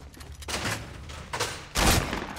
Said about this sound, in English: I just shot on accident